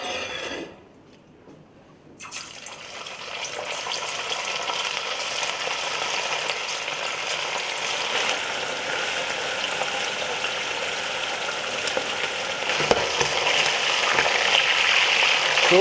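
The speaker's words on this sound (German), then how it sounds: "wir frittieren die auch, bis die goldbraun sind" Chicken pieces deep-frying in hot oil for Arabic maqluba, a steady broadband sizzle and crackle that starts after a brief quiet moment and continues close and fairly loud with no talk.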